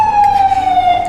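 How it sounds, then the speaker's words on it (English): A police car siren wails in a steady, slightly falling tone as the car passes close by on a Brooklyn street, loud and clear over low traffic rumble. "back to the streets of Brooklyn with Brian, just as a police car is passing by."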